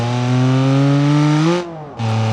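A Lada in BeamNG.drive gives a loud, steady engine tone that rises in pitch as the revs climb, drops off sharply for a moment, then resumes at a lower pitch.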